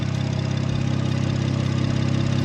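A turbocharged 340 engine idles steadily right after starting, a loud, even low rumble with a rapid regular pulse and no voices over it.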